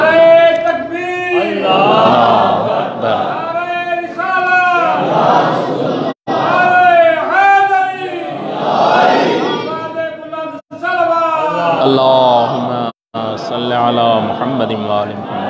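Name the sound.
crowd chanting Allahu Akbar in response to slogan call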